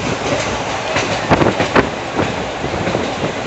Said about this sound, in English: The train is plowing through some pristine forests.